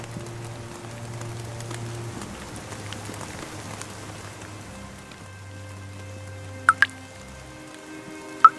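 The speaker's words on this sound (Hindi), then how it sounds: "कुछ ही देर में बूंदाबांदी शुरू हुई और फिर देखते ही देखते मूसलाधार बारिश होने लगी।" Steady heavy downpour pours down on a thatched hut in a continuous hiss, with a few sharp drips or knocks near the end and low tonal music underneath.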